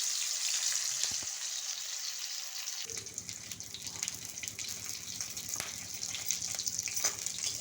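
Vegetables sizzling and frying in a pan for a banana and potato curry, a steady broadband hiss that thickens with louder crackle partway through, close and continuous with no talk.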